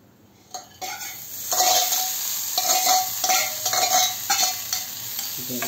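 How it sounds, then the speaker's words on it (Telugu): Garika grass being stirred into sizzling tempering oil in a pan for garika pachhadi, with repeated scraping and clinks of a spoon against the pan over a steady fry. "కొంచెం పోపు వేగుతుండగానే గరిక కూడా వేసేసుకోవచ్చు."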